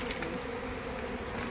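Honey bees buzz in a dense, continuous drone around a hive frame, close and steady with no voices.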